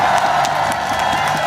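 A crowd at a political rally in Daegu bursts into steady applause and cheering, dense clapping with scattered whoops filling the brief stretch at a fair distance.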